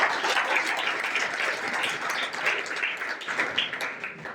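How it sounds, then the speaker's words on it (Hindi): An audience at a lamp-lighting ceremony applauds, a loud sustained wash of many hands clapping that continues steadily without break. "आप जोरदार ताली तो बजाइए"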